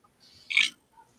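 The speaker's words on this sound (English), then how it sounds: "Hey Google, make a burp noise." A short burp sound effect played by a Google Assistant smart speaker: one brief, squeaky, nasal belch of under a second, fairly close in a quiet room, followed by a faint tail.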